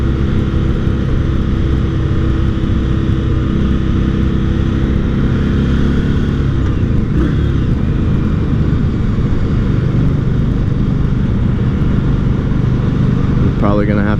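An Indian Scout 60 cruiser motorcycle pulls smoothly up through its revs, a loud continuous engine drone heard from the rider's position, mixed with wind roar, with a brief change in pitch midway as it shifts.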